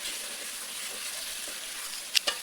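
Chicken pieces frying in oil in a karahi, giving a steady, fairly close sizzle with a couple of brief sharp crackles near the end and no talk.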